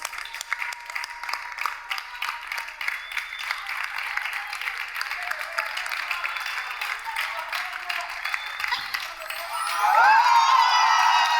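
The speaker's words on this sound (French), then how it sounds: "Sous vos acclamations." A studio audience bursts into applause that swells near the end into loud, dense clapping with cheering, after a stretch of scattered claps.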